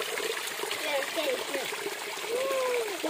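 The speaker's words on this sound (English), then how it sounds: "It's a kind of small waterfall here." A small waterfall in a forest pours with a steady, close, splashing rush of water. Voices talk over the flow throughout.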